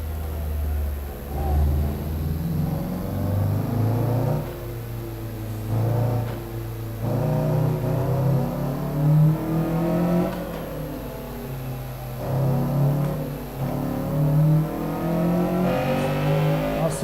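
A Honda Civic EG with lowered, cambered stance accelerates hard, its engine revving up and down in repeated surges through the gears, loud and close from inside the car.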